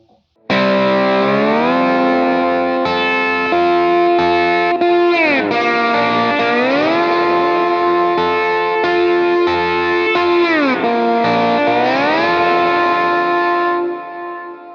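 Electric slide guitar with a distorted, effects-laden tone playing an interlude of the hymn "His Mercy Is More", notes gliding down and back up the neck while full strummed strings ring out, loud and steady throughout.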